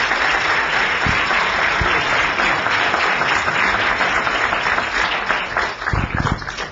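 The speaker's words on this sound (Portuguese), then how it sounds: "Gostava só de pedir uma nova salva de palmas para os nossos gurus de hoje." An audience at a business analytics talk claps for the presenters, dense sustained applause filling the room from start to finish, with a few sharper individual claps standing out near the end.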